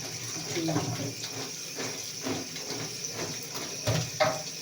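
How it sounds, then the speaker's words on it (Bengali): Pointed gourds are washed by hand under running water, with a faint continuous trickle and soft splashy rubbing bursts at close range, with no speech over it. "দেখো সবজিটা ধুয়ে নিচ্ছি"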